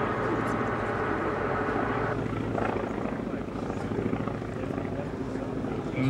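A Boeing P-26A Peashooter, a 1930s US Army Air Corps monoplane with fixed undercarriage and wire bracing, flies at the Duxford Flying Legends airshow, its radial engine and propeller droning steadily and loudly throughout with a pulsing low rumble.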